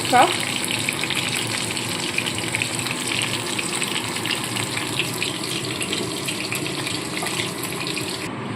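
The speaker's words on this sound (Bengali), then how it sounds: "বাকি তেলে প্রথমে জিরে ফোড়ন দিয়েছি আমি" Cumin seeds sizzle in hot oil with a bright, rushing hiss that starts with a sharp crackle and then holds steady and fairly loud without pause.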